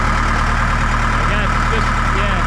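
A huge piece of heavy equipment idles after restarting, a loud steady low engine rumble with a constant drone throughout.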